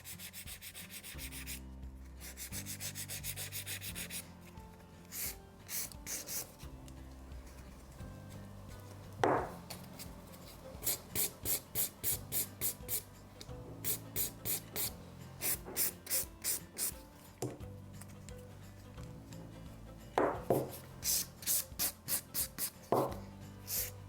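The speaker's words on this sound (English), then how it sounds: "So once you're happy with your finish filing, we're going to go in with the buffer again" A nail file rasps across fingernails in quick, rhythmic back-and-forth strokes, close and fairly quiet, with short pauses between sets of strokes.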